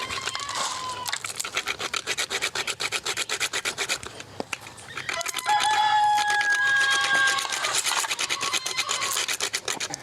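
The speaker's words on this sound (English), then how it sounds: "Then we would grate her nutmeg." Whole nutmeg grated by hand over a grater for Jamaican cocoa tea: steady, close rasping strokes in a repeated back-and-forth rhythm, with a brief pause midway and faint rooster crows in the background.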